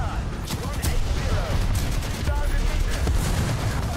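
Gunfire rattles in War Thunder from a battle around an Object 435 tank, with repeated loud shots and bursts landing in quick succession among rumbling battlefield noise.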